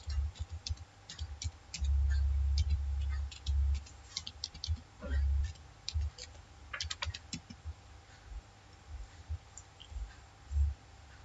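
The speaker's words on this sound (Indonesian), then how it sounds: "Kita ketikkan di search box" Close, quiet typing on a computer keyboard into a search box comes in irregular bursts of crisp key clicks, mixed with soft low thumps from the desk.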